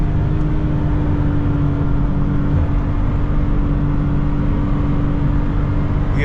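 Toyota GT86 manual sports car engine droning steadily from inside the cabin while cornering, a loud continuous hum with road rumble and no clear rev changes.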